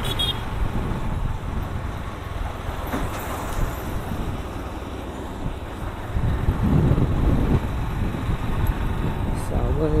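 Car driving at normal speed on the NH66 Goa highway near Chiplun and Savarde, with steady road rumble and wind noise filling the whole stretch, a faint voice now and then beneath it.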